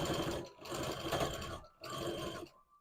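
A sewing machine stitching a flat plush piece runs in fast, close, whirring bursts, with two long runs separated by brief pauses and a final short stop.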